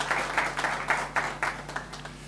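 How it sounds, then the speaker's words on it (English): Audience applause at the opening of the first official Falken tyre concept store in Kenya, run by Wabco TyreCenter, comes in a steady run of clapping bursts at moderate level over a low hum. "Big round of applause for that."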